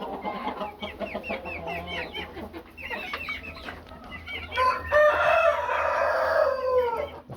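Chickens and a rooster on a farm, with quail also kept there: a mixed flock clucks and chatters nearby while a rooster crows loudly toward the end, with no talking.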